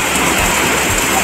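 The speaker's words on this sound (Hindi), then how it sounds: "इतनी ज़ोर से बारिश पड़ रही है कि हम कहाँ बताएं आपको।" Heavy rain pours down in a dense, loud and unbroken hiss that fills the whole moment.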